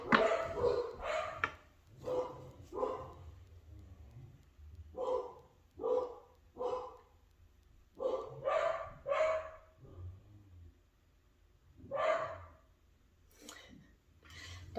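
Several dogs bark loudly and excitedly at a delivery driver, firing repeated clustered bursts of barks and yips with brief pauses between volleys, close by and fairly loud.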